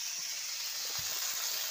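Tomatoes tipped into a pan of frying onions and green chillies set off a steady, close broadband sizzle that holds evenly throughout, with faint low clatter underneath.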